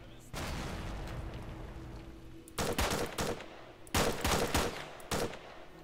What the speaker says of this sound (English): He's throwing a grenade.